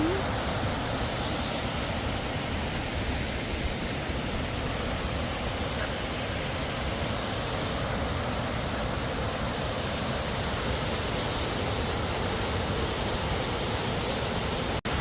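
Agnes Falls, a 59-metre waterfall in the Grampians of Australia, roars as a dense, unbroken rush of falling water, loud and constant throughout.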